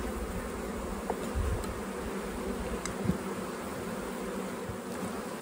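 Honeybees swarm around a brood frame packed with larvae and eggs as they fly again in mild weather after snow, a steady dense buzz with a few louder passes close by, no talk.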